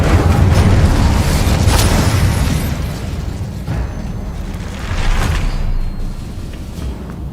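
Spell effects from the Hogwarts Legacy video game, with an Incendio fire spell cast in a loud, dense whooshing burst and roar that swells, dips and swells again, with no talk over it.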